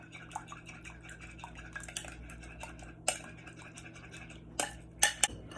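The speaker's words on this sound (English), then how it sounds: "Stir that around like so." A spoon stirs crab cake mixture with egg in a bowl, making irregular clinks and scrapes against the bowl's side, with a few sharper knocks near the end.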